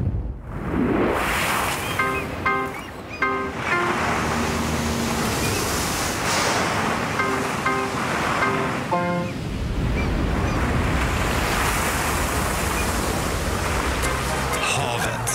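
Sea waves wash in a ferry advertisement, a loud, continuous broadband surge, while tonal music or voice fragments rise briefly over the water early on and again midway.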